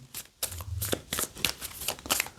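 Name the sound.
shuffling a deck of board game cards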